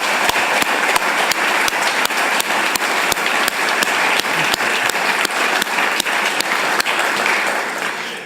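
An indoor audience at a basketball arena renovation groundbreaking ceremony applauding to thank and welcome Gail Cook, a dense, steady round of clapping that holds strong throughout and eases slightly at the end.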